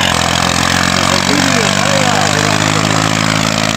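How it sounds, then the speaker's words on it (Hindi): Tractor engine on a snowy mountain track in Pakistan's Hundrap to Gologh Phander hiking area, a steady loud droning hum running throughout with low engine harmonics, heard close and continuous. "पीछे ट्रैक्टर जा रही है।"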